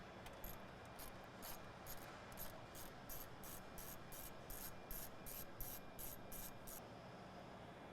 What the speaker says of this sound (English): Next you're going to remove this bolt and then set it aside